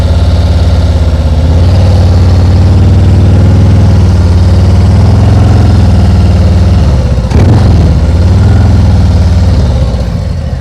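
A motorcycle engine idles steadily and close, then revs briefly as the bike pulls away from a stop during a turn-from-a-stop practice run, the note dipping and rising again before settling.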